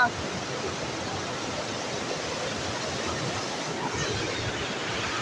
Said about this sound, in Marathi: आणि बघू शकता इकडनं पण पाणी मस्त जात आहे